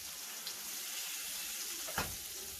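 Salisbury steak patties browning in a pan give a steady, moderately quiet sizzle, with a brief louder hiss near the end.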